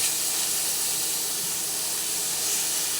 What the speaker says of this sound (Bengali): সব দিয়ে পিঠটা প্রথমে একটু ভালোভাবে নাড়াচাড়া করে ভেজে নিচ্ছি